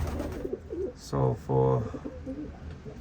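Racing pigeons coo at their loft in two short, rolling phrases close by, partly overlapping a man's speech outdoors.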